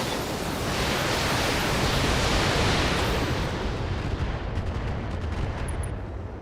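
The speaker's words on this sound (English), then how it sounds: "Firing a full salvo" A mech in a video game fires a full weapons salvo, a dense, roaring wall of blasts and rumble that stays loud for several seconds before easing slightly, with faint crackles trailing at the end.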